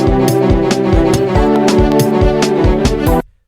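Layered orchestral strings and brass from a software orchestra instrument play sustained chords over a steady soca beat in FL Studio, with a kick pulsing about twice a second, loud and full until it cuts off abruptly.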